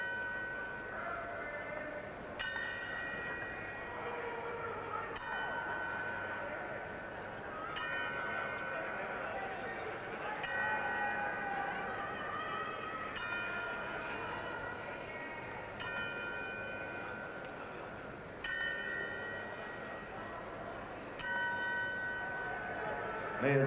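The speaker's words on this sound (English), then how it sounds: "they're tolling the 10-second bell" Boxing ring bell tolled ten times as a tribute at a Mike Tyson vs Tyrell Biggs fight, sharp metallic strikes recurring at regular intervals over a steady arena crowd murmur.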